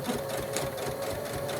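A sewing machine stitches paper for a clasp envelope, running in a fast, steady mechanical whir with a constant hum, close and loud with no talking.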